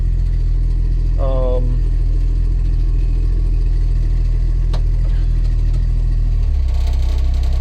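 An old 1973 Jeep DJ-5C with a 232 engine idles loudly nearby, slightly high, in a deep, steady rumble, with a brief voice-like sound early on and a single click midway.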